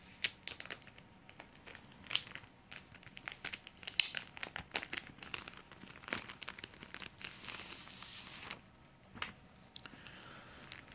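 Plastic comic book bag crinkled and handled close up, with dense bursts of crackling and rustling throughout and a louder stretch of crumpling near the end, with no talking.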